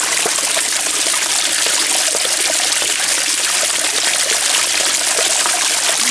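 Water runs steadily in a brook crossing a hiking trail near Yosemite Falls, a close, continuous rushing and trickling with no pauses, loud and even throughout.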